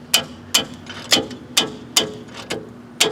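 A ratchet turning a heated bolt on a Dodge 1500 front wheel bearing, with seven sharp, close clicks spaced about half a second apart in a steady rhythm, and no speech.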